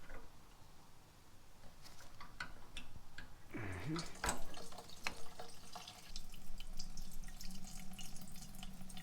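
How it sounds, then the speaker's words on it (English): Gasoline drains from a snowblower fuel line through a funnel into an empty plastic protein jug, heard as faint, irregular drips and a thin trickle with scattered small ticks, close by and quiet. "the gas is gonna roll right down this Forma funnel, which is an awesome tool"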